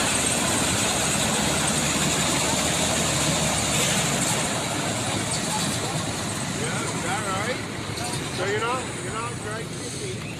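Vintage John Deere Cyclone snowmobile engine idling outdoors, a continuous rough rumbling drone at steady level with people talking faintly over it.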